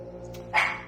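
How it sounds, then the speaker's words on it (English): A dog gives a single short, sharp bark nearby inside a rideshare vehicle, brief and fairly loud against a steady low hum. "Sorry for the dog."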